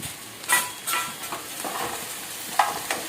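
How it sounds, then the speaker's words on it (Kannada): Capsicum fries in a pan with a soft, faint sizzle, broken by a few quick scraping stirs of a spoon against the pan. "ಹಾಕಿ ಅದು ಸ್ವಲ್ಪ ಬಾಡುವ ತನಕ ಫ್ರೈ ಮಾಡ್ತಾ ಇರಬೇಕು"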